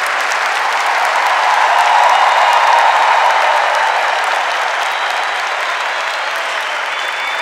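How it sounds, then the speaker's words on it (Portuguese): Loud, sustained applause from a large church congregation at a Catholic Canção Nova gathering in Brazil, a dense steady roar of many hands filling the whole stretch with no voices above it. "A Canção Nova merece esse aplauso"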